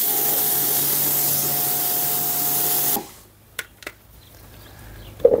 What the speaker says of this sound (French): Tu remets un petit coup de nettoyant jante dessus.